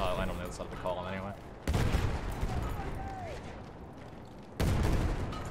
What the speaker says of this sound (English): Still a lot of explosions.